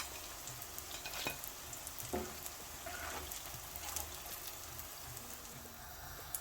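Chicken cutlets fry in oil to a golden brown, giving a quiet, continuous sizzle with faint spitting pops and a few soft utensil clicks, no voices.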